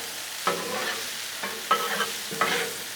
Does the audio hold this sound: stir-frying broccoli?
yes